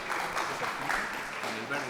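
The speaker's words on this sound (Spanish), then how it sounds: "Un aplauso también para él, por favor." An audience claps steadily for a banking director at a Spanish-language business talk on credit applications, a moderate and continuous round of applause.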